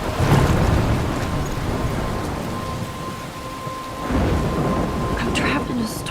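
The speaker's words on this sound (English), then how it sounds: "I'm trapped in a storm?" Thunderstorm with heavy rain in the game Life is Strange, a dense, continuous roar of rainfall with deep rumbling thunder swelling near the start and again later, loud and close.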